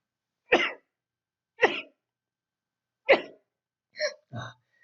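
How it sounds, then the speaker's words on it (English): Several short, sharp bursts spaced apart, like sneezes or hiccup-like spasms, each abrupt and isolated against silence, the last two close together. "I've got to sneeze."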